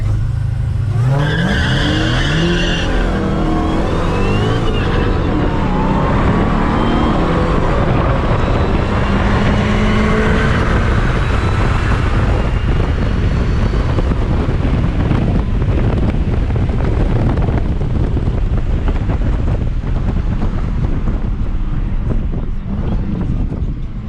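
An 800 hp Dodge SRT Hellcat drives in the rain, its engine rising to a hard roar and then settling into a continuous rush. Heavy wind buffeting and spray noise fill the sound throughout, with no talking.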